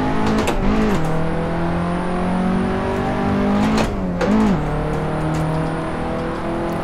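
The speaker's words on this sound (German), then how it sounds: "Im dritten Gang anfahren kriegt man vielleicht hin, ist aber nicht ganz so komfortabel. Bisschen Gas geben und los geht's." A car pulling away in third gear during a first driving lesson, its engine note rising and falling through two pushes of throttle with a whirring whine and a brief wheelspin squeal, close and loud inside the cabin, with no talking.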